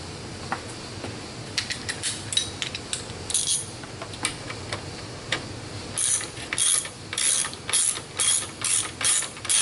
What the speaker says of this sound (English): You guys don't need to see me unscrewing 4 bolts.